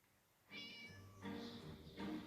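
A cat meows a few times in short drawn-out cries in the video game Scary Teacher, clear and fairly close, with little else around it.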